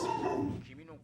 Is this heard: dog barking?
yes